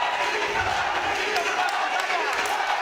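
Crowd noise at a BA 77 fight between Mehdi Zooddashna and Michal Garbacz, a steady loud roar of cheering throughout under a commentator's voice.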